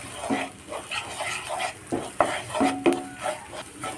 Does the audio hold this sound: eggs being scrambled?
yes